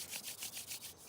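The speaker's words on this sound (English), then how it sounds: "Just rub the hands together" Palms rubbed briskly together during a qigong session, a close, dry swishing friction in quick regular strokes, about five or six passes in a second, with no talk.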